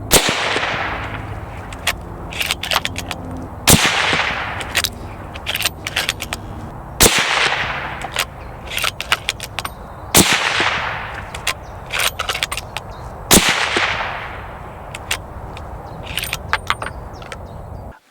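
A Seekins Precision Havak HIT Pro rifle in .308 Winchester fires five sharp, loud shots at even intervals of about three seconds, each crack trailing into a long echoing decay outdoors, with faint clinks between shots.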